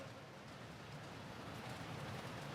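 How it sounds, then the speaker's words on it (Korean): Steady rain falls in a broad, even hiss with no distinct drops or pauses, filling the space at a constant moderate level. "빗소리 너무 좋네."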